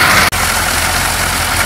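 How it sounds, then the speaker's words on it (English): Diesel engine running steadily up close during a clear fuel filter test while air is bled from the fuel line, a continuous loud rumble with one brief dropout near the start. "I'm gonna try and rev it some more"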